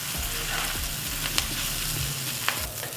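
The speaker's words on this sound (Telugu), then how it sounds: "వేసుకొని వీటన్నింటినీ బాగా కలిపేసుకుందాం." Leftover idli pieces are stirred together with masala in a hot pan, giving a steady close sizzle. Soft scraping stir strokes and a couple of light clinks sound over it.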